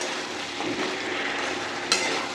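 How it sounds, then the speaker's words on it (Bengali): Spiced marinated mix with Kashmiri chilli and lemon sautéing in a pan, a steady soft sizzle with stirring scrapes and a brief clink of a utensil toward the end, close and moderately quiet. "এটাকে এখন অনেকক্ষণ কষতে হবে"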